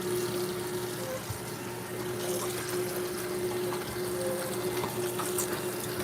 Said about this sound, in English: Now we're going to just make sure our lettuce is very clean. I have it soaking.